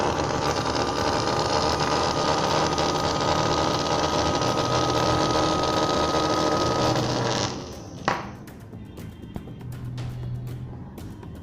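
An electric fan run on 220 V AC through a reused capacitor whirs fast and steadily, a loud continuous hum that drops away sharply toward the end, leaving a faint quieter drone.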